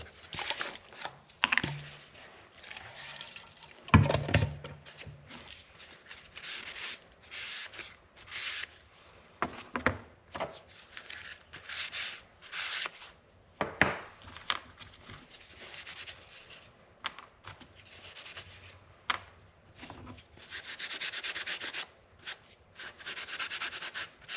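Knife parts are rubbed and wiped clean before fitting a handle, giving intermittent close scrubbing and rasping strokes in irregular bursts, with short pauses and a few soft knocks.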